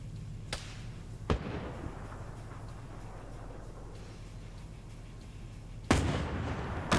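Heavy WW2-era tank cannon and gunfire in a 190-player Germans versus Soviets battle game: a few sharp, booming shots punctuate a continuous low engine rumble, with a loud blast near the end.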